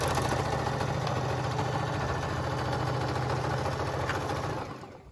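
A sewing machine runs a French seam on pillowcase ruffles with a continuous, even motor hum and rapid needle chatter, close and moderate in level, then slows and fades out at the end.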